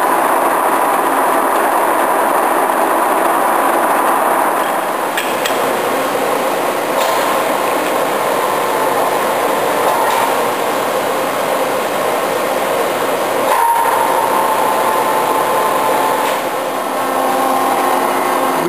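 Giddings & Lewis Fraser 5-inch table-type horizontal boring mill heard close to the headstock with its spindle turning at 24 RPM, a loud, steady mechanical hum and rumble with faint knocks, continuous throughout and without talk.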